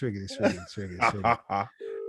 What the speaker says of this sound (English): Oh, what a great start, boy. It's ringing.